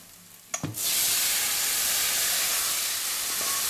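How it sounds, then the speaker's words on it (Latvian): Turmeric and tomatoes hit a hot pan with a sudden loud sizzle that settles into a steady, close frying hiss lasting several seconds, with no talking. "Pievaram kurkumu un liekam iekšā tomātus."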